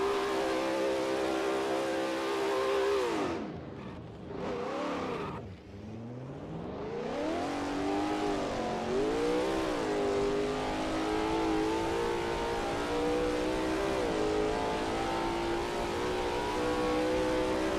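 Lola T70 MkII Spyder race car in a racing video game at Bridgehampton: a steady, droning engine note that dips and rises through gear changes and a turn, then settles into a continuous high rev, heard alone without talk.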